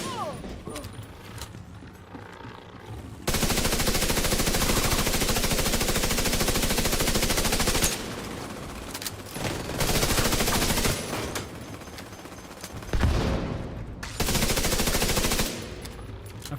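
Capacitor weapon firing in Battle for Brooklyn, long loud continuous bursts of rapid automatic fire with short pauses between them, under a player talking.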